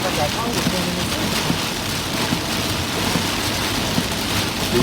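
Heavy rain and 55 mph wind gusts from a storm on Interstate 49 in north Mississippi pound the vehicle in a loud, steady roar that never lets up.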